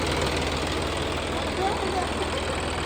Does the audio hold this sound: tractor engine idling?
yes